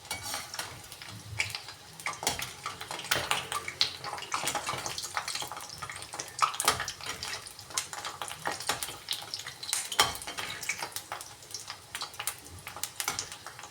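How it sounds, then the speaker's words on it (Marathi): Bhaji fritters fry in hot oil in a pan, a close, steady crackling sizzle with scraping clicks as the fritters are flipped. "आता भजी पलटून घेऊ आपण।"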